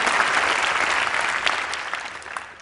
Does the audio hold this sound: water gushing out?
no